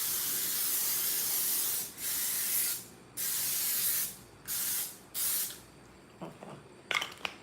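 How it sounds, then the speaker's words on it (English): A spray bottle hisses in five bursts of roughly one second each, separated by short pauses, followed by quieter scattered clicks and rustles toward the end. "We got this spray. Basically just steaming."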